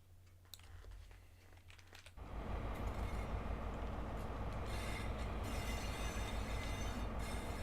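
A simulated train in Train Simulator Classic arrives at Penzance. Quiet clicks give way to a loud, steady rolling roar of wheels on rails that continues without break.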